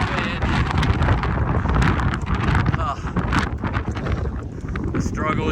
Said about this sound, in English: Definitely some good gusts of wind.